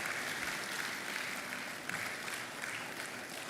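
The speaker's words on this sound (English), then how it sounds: "Please, let's keep clapping till she's well settled." Steady applause from a congress audience at the Africa Retail Congress 2025, dense continuous clapping filling the whole stretch at moderate loudness with no voices on top.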